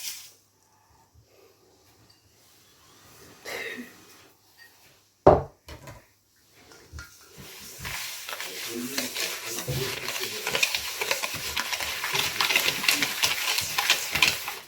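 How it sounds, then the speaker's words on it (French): Soft butter and sugar are worked together in a dish, heard as a rough, continuous scraping and squelching that builds to a steady stir in the second half, with a few knocks against the dish early on. "j'ai mis donc le beurre mou dans mon plat et on va le mélanger au sucre"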